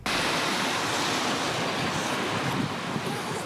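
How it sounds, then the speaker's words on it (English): Mediterranean waves wash onto a shore in Morocco, North Africa, a loud, continuous broadband surf roar with wind-like hiss, steady throughout and no voices. "With Mediterranean waves lapping the shore, this scenic slice of land has become a major draw"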